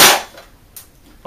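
An Elite Force IWI Tavor TAR21 blowback airsoft AEG firing on full auto gives a sharp, loud mechanical burst at the start, followed by a couple of quieter clicks, all very brief with no talking.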